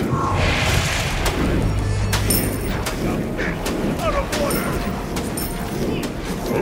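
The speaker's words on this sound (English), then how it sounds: "Your team just destroyed a middle enemy tower." Enemy tower destroyed in the video game SMITE: a sustained booming, crashing game explosion with repeated impact hits over a dense, continuous background of game noise.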